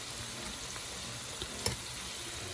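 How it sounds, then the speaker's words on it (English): Onions sweating in a pan for ackee and saltfish, a faint, steady low hiss with one sharp clink partway through and no voices. "sweat this out. Okay. Just sweat up. You can see the onions."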